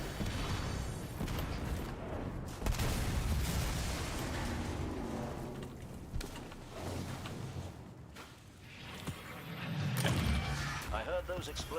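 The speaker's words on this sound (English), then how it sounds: "I heard those explosions from here." Heavy explosions in the video game Destiny 2 form a dense, roaring rumble of blasts and debris that swells and fades over the whole stretch, with a final loud burst near the end; a voice talks underneath.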